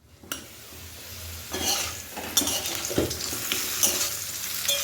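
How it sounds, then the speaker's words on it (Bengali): Potatoes frying in hot oil for a Bengali dal and egg dhoka curry, a steady close sizzle broken by scraping stirs and clinks of a utensil against the pan, with no talk. "আলুটা কিন্তু লাল করে ভাজা হয়ে গেছে এবার উঠিয়ে নেব"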